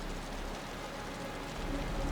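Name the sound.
rain in Wuthering Waves video game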